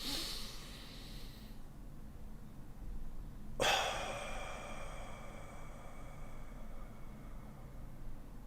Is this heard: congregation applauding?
no